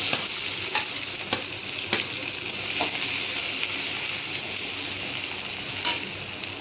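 Mustard seeds, cumin and small shallots frying in oil in a pan give a steady close sizzle, with faint stirring taps and occasional pops throughout.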